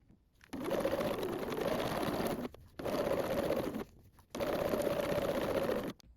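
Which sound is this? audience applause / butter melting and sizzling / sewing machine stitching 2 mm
sewing machine stitching 2 mm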